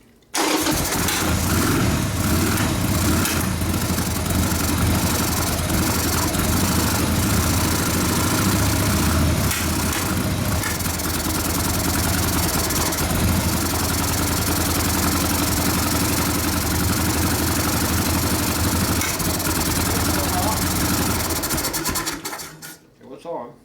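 A used Harley-Davidson Sportster custom motorcycle engine idles continuously and loudly, running a little lean, with a steady uneven rumble throughout that cuts off near the end.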